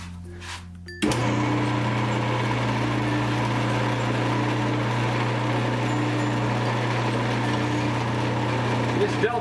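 A Delta wood lathe spins up with a sudden switch-on after a short quiet moment, then its spindle holds a steady, loud motor hum with a constant tone at about 1,500 RPM.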